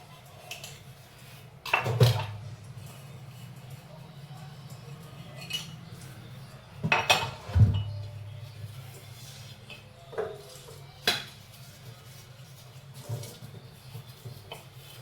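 Dishes, pots and utensils are washed at a home sink, with scattered clinks and clatters of metal and glass over a steady low hum, some of the knocks loud and close, others faint.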